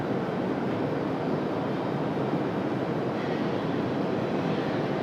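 Air France airliner rolling toward the end of the runway at Raleigh-Durham International, its engines a steady distant roar with broadband rumble held at constant level throughout.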